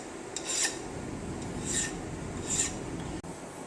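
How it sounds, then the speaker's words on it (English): Hand deburring of a milled metal part, with three rhythmic rasping file strokes close up against steady background hum, no talking. "So now we're going to deburr this part"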